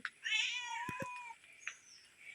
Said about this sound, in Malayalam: പൂച്ച വന്ന് നോക്കി